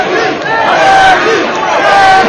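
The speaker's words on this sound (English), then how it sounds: "The crowd really getting behind Reggie Johnson at this point." Boxing crowd cheering and roaring for Reggie Johnson during a late round against Julio César González, a loud, dense wall of voices with rising shouts swelling throughout.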